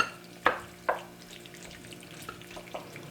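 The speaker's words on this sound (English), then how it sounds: "We're just going to mix this up" A spoon stirs a baked macaroni and cheese mixture with added milk, giving a few distinct wet scraping clacks followed by quieter, softer stirring.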